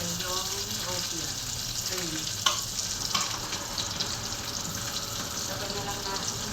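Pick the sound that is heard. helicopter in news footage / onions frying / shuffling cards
onions frying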